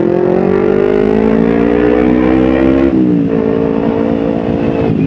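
A motorcycle engine running on Shell Advance AX7 oil revs loud and close, a strong steady hum that holds high, dips briefly, then climbs again.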